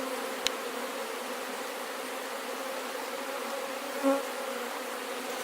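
Honey bees hum steadily around an opened beehive during a hive check, a continuous close buzzing drone with a brief sharp tick early on and a short swell in pitch near the end.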